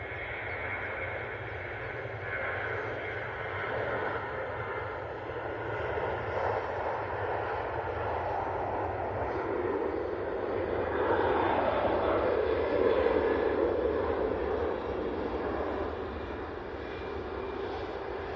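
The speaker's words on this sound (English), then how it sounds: "Tui now on the roll." TUI airliner on its takeoff roll, a distant, steady engine roar that swells gradually toward the middle and stays broad and continuous, fairly faint overall.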